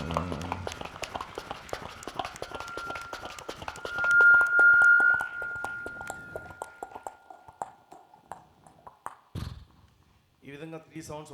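A performer's voice mimics a distant train and a horse going together on stage at a school annual day, with rapid clip-clop clicks and a sustained whistle-like tone, followed by brief quieter vocal bursts.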